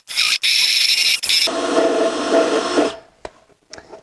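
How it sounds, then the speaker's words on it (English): A drill fitted with a small sanding disc grinds down a rim nipple on a modified ride-on toy car wheel, giving a loud high squealing whine that drops in pitch midway, then cuts off, leaving a few faint clicks. "in our drill, we just got one of these little sanding discs"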